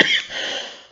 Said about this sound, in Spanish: un poquito nos está molestando la tos